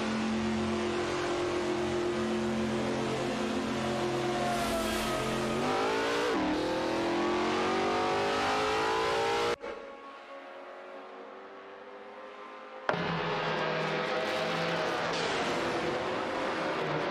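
Engines of race cars in an AI racing video game rev and whine loudly, one sweeping upward in pitch. They briefly drop to a muffled low rumble before the full roar returns.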